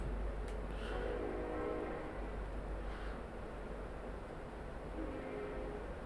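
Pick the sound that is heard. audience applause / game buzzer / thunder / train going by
train going by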